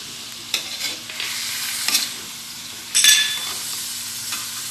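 Chicken in a pot with fish sauce is stirred, giving a soft sizzle under intermittent scraping and swishing strokes, with a louder scrape near the end and no talking.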